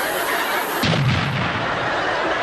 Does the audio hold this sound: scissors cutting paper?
no